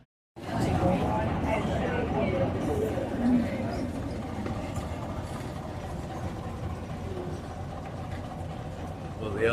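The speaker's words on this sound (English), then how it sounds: "the old Gardner diesel engine down below certainly sounds like it's running perfectly" Old Gardner diesel engine running steadily below deck on a Tea Gardens ferry, a continuous low rumbling drone at constant idle with no pauses, heard close throughout while indistinct people's voices murmur faintly in the background.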